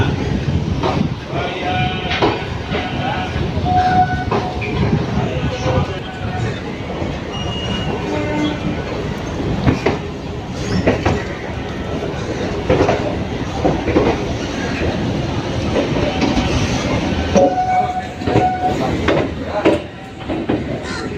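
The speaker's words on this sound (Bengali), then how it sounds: "ট্রেন কিন্তু ছেড়ে দিয়েছে শিয়ালদা থেকে" A local train departs Sealdah station on the journey toward Bolpur, its wheels giving a loud, continuous rumble and rhythmic clatter over the rails, with brief horn-like tones and faint voices of passengers in the carriage.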